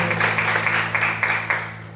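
A church congregation applauds during an evening service, a steady wash of many hands clapping with a few louder bursts, continuous for about two seconds over a low electrical hum.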